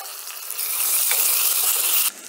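Ginger garlic paste hits hot oil in a kadhai while a kadhai gravy is cooked, giving a steady, close sizzling hiss that swells and holds for about a second and a half before cutting off sharply.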